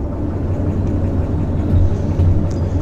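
A locomotive engine in the train simulation game Derail Valley gives off a steady, loud low rumble with a whirring drone, swelling slightly in two spots, with no talk over it.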